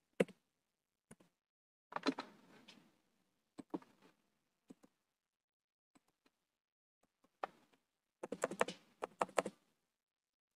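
Keys on a computer keyboard are tapped in short, scattered clusters while entering a spreadsheet formula, faint and close with quiet pauses between bursts and a denser flurry of presses near the end.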